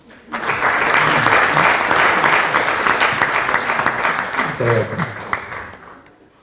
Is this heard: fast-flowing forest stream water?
no